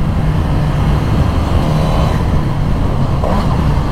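Suzuki GSX-S 1000 (2021) motorcycle engine running steadily at speed on the road, a loud continuous low drone mixed with wind rush and no pauses.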